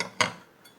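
A metal idli plate is set into a steamer while making idiyappam, one sharp metallic clink followed by a fainter light tap, close and otherwise quiet.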